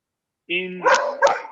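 A dog barks twice at close range indoors, a short whine or yip leading into two sharp, loud barks in quick succession during a live online Q&A.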